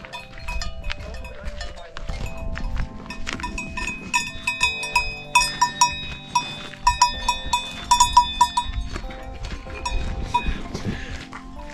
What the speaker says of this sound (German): Kühe gibt es hier.